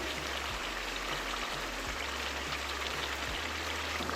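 Slit green chillies fry in oil in a beef kofta curry, giving a steady, close, even sizzle like light rain that holds without a break, with no talk.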